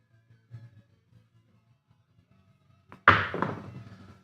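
Craps dice thrown hard onto a casino table, a single sharp clatter and bounce arriving after near silence with faint handling sounds, then a short rattling decay.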